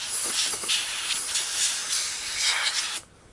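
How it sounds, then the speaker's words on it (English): Compressed air blasting from an air hose in a workshop during clutch work on a Harley-Davidson Panhead motorcycle, a loud steady hiss lasting about three seconds before cutting off abruptly. "every time I blow this air hose, I'm going to stop and wait for the sound to catch up"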